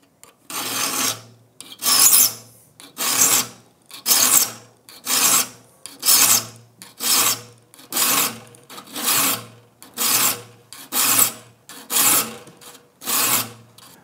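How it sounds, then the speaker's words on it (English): A metal file rasps across the teeth of a rip saw in a dozen even, evenly spaced strokes, each a close, scratchy swell and fade repeating about once a second. "The key here is to keep the file 90 degrees to the face of the saw."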